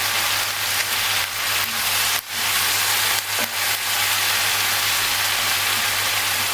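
About two glasses of peas sizzle steadily in a pot with black pepper, a close, continuous hiss with a few scraping stirs partway through.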